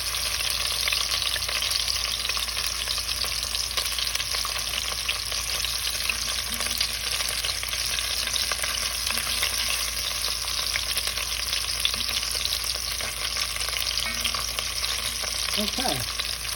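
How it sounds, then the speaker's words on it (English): Garlic frying in a pan for spaghetti and meatball sausage gives a steady, close sizzle that runs unbroken throughout, with faint stirring and no talking. "what I'm going to do is add a little bit of our garlic."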